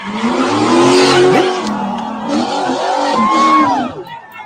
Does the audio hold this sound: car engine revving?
yes